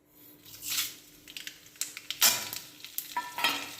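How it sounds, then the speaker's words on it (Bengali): Bay leaf, black mustard seeds and white cumin hit hot oil in a short burst of sizzling. Sharp crackles and pops follow, along with a few spoon and pan clinks, close up and without talk. "তেলটা গরম হয়ে গেলে এর মধ্যে আমি একটা তেজপাতা, একটু কালো সর্ষে আর একটু সাদা জিরে ফোড়ন দেব"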